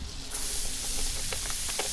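Chopped vegetables, white onions and peppers, hitting a Blackstone griddle at medium-high heat, giving a loud continuous sizzling hiss with scattered sharper pops and crackles.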